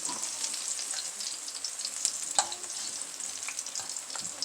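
Plantains frying in a pan for a coconut curry salmon dish, a steady, close hiss and crackle of oil with a few sharper pops and no voices.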